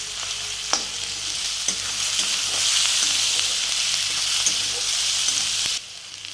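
Onions frying in oil on a low flame hiss with a steady, close sizzle as they are stirred continuously, with occasional light clicks of the spoon against the pan.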